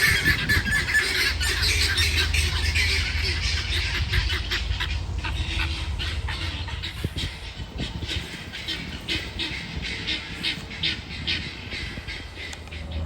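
Several tom turkeys gobble and squawk loudly, growing aggressive with one another, their harsh calls overlapping in bursts against a continuous rumbling background.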